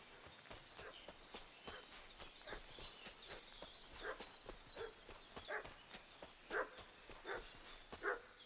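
A dog barks repeatedly in Kingdom Come: Deliverance 2, a medieval village scene, sharp irregular yaps at a middle distance over soft ambient background, some louder toward the end, no talking.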